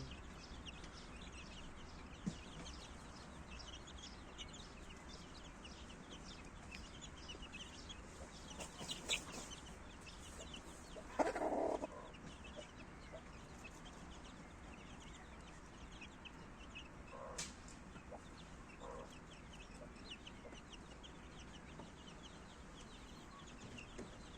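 Young turkey chicks on a farm make faint scattered clucks and chirps, with one slightly louder burst partway through, over a constant background hiss.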